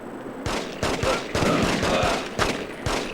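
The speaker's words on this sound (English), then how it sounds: "That's a shotgun!" Rapid bursts of gunfire ring out in The Getaway game, several sharp cracking reports spaced irregularly over a few seconds, loud and close with a brief tonal hum at the start.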